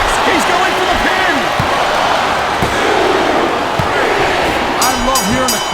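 Crowd roar fills a WWE Smackdown vs Raw 2007 wrestling match, a loud sustained arena cheer under ring slams, thuds and a commentator's voice.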